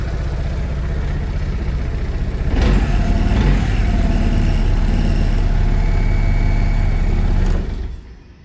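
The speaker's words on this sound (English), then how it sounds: "Starts and runs lovely." A Vespa GTS 300 Super scooter engine idles close by, rises briefly to a fuller rev, holds steady, then cuts off near the end.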